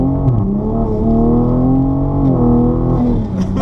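A tuned 2020 Toyota GR Supra, 416 hp, pulls hard in sixth gear from just over 2,000 rpm, with a steady, loud engine drone whose pitch rises and shifts continuously, heard alone without talk.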